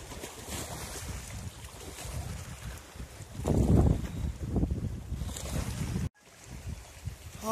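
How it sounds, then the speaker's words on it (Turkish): Strong wind blows across Lake Terkos during a fishing trip, a loud, steady buffeting rumble against the microphone that swells midway and cuts out briefly near the end. "Hava çok rüzgarlı olmasına rağmen şans çok şükür yine yüzümüze güldü."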